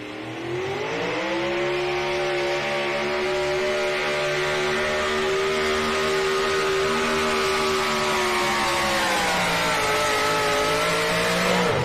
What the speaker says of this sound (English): Jordanetti turning the high RPM here this afternoon